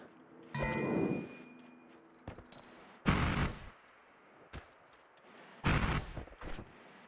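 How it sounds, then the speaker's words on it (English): Rapid bursts from a magical machine-gun wand in the game Noita, loud volleys arriving in a few separate clusters with quieter crackling and short pops between them. "We have a magical machine gun now."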